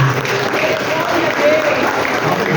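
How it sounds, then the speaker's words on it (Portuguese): A church congregation applauds during a Portuguese-language family worship service, steady dense clapping filling the whole stretch at a fairly loud, even level with a faint voice rising briefly above it. "Então eu peço uma salva de palmas para o Senhor."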